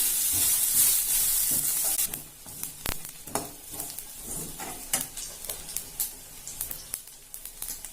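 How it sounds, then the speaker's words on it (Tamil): Ingredients for chicken salna, coconut among them, fry in a pan. A loud, steady hiss of sizzling oil gives way to quieter frying under irregular scrapes and clinks of a spoon stirring, heard close with no voices. "இது எல்லாத்தையும் லேசா செவக்க வறுத்து எடுத்துக்கலாம்."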